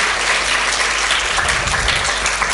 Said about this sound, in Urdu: زور تالیاں بھی چاہیے اس بچے کے لیے